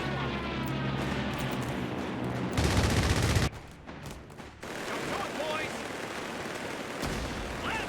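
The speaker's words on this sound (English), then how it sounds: "Gonna call in artillery on this lot." Artillery strike in Company of Heroes 3, heavy booming blasts and gunfire over a busy battlefield mix with a loud burst near the middle and continuing rumble afterward, while someone talks over it.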